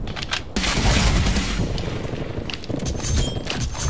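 A frag grenade detonates in Call of Duty: Cold War, a loud blast erupting about half a second in and rolling into sustained rumbling debris, with gunfire crackling behind.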